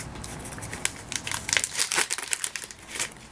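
A small plastic package of latex-free adhesive bandages is peeled open up close, giving a burst of sharp crinkling and rustling bursts with no talking.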